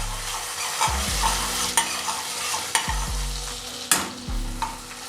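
Ginger and garlic frying in a pan with cinnamon and cloves, a steady sizzle under repeated scraping stirs of a utensil against the pan bottom, close and loud, with about five distinct strokes.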